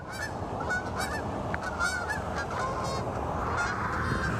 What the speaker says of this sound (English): a flock of Canada geese passing overhead, flying through the morning fog in North Columbus